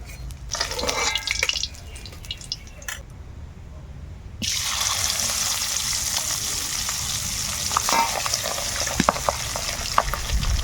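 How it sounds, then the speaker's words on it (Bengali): Pabda fish sizzle in frying oil, a close crackling hiss that drops away briefly near the middle and then returns louder and steady, with light clatter and no voices. "বাকি মাছগুলোও ভেজে নেব"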